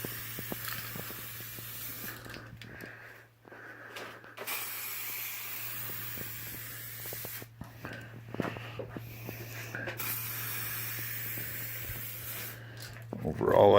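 DuraBrown coating sprayed from a can in a laundry room, with intermittent hissing bursts separated by brief pauses, close and moderately loud.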